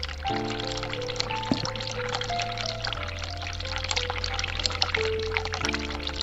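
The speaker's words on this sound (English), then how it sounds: "Turn cold water on." Steady running water pours continuously from a sink tap in a video game, with sustained background music tones playing underneath throughout.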